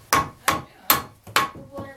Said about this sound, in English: Hold the bottom of the hammer so you get a better hit.